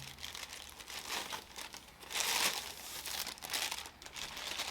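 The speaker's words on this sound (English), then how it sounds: "I'm gonna take this tape little thing off right there" Tape is peeled off a fabric handbag dust bag, giving soft crinkling and tearing rustles in uneven bursts, close by and quiet, with no talking.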